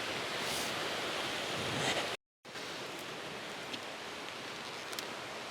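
A small creek running through a little canyon, giving a steady broadband rush of flowing water that holds even and fairly close throughout, broken by one brief gap.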